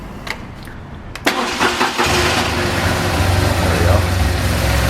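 A BMW R1200GS adventure motorcycle cranks and fires up, then settles into a steady, loud low idle that continues close by, with no talk.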